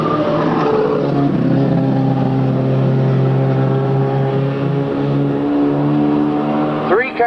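Several race cars roar past together in a three-car battle during a Sunday Warriors auto race, engines loud and sustained with shifting pitch, a commentator's voice running over the din.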